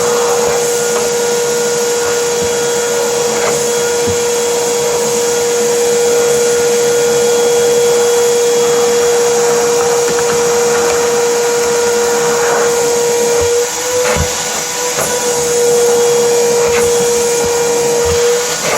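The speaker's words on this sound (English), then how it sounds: "I want to show you me using this to vacuum out the back seat area" A Harbor Freight Bauer 6-gallon wet/dry shop vacuum runs continuously while cleaning the back seat area of a BMW, producing a loud, steady motor whine and airflow roar with occasional thumps and brief suction changes as the nozzle moves.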